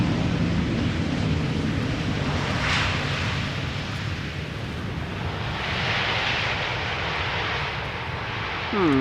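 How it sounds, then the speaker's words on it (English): A distant business jet taxiing toward runway 22 at Schiphol's Polderbaan gives a steady broad engine roar under wind noise, with the hum rising slightly midway. "BizJet going to runway 22 somewhere in the distance."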